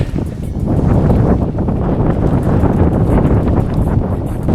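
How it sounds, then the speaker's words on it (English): Strong headwind roars on a mountain descent in Pen y Fan, a loud, continuous buffeting rush across the microphone that stays close and unbroken, with no voices heard. "Downhill into a massive headwind"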